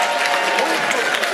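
Applause at a formal annual dinner forum as a runner-up is called on stage, a short burst of dense, steady clapping from a crowd with voices mixed in.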